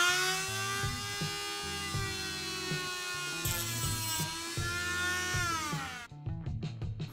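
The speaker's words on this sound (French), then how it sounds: "je vais couper ce sion avec un disque que j'ai installé sur ma Dremel" A Dremel rotary tool with a cutting disc slicing through a fishing rod tip, a steady high whine with pitch that sags slightly under load, then a rattling wind-down at the end, close and with no speech.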